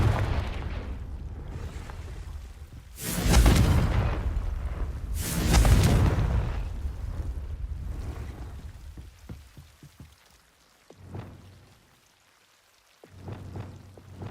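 Two heavy booming blasts of the Confringo fire spell in Hogwarts Legacy, a few seconds apart, each swelling loud over a steady rain-like rumble, before the scene quiets with faint clicks.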